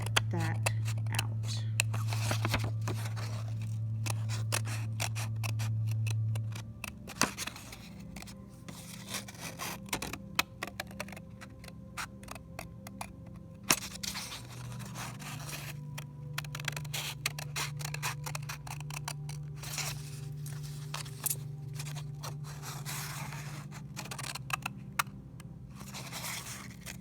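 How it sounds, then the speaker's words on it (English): Scissors poke into and cut out the inside of a paper art viewfinder frame, giving quiet close snips, crunches and scraping rubs spread unevenly, with a low steady hum underneath. "So I just poke a hole in it with my scissors carefully, and then I just cut that out."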